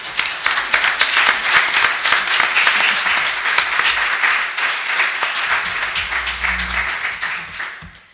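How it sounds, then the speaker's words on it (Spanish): Sustained audience applause fills a 40th anniversary celebration of the Isadora Duncan association, dense and loud for about seven seconds before thinning and fading at the end. "se merecen un aplauso porque no es ningún milagro"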